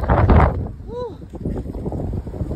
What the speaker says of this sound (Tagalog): Lakas ng hangin guys, ano ba yun ang bagyo?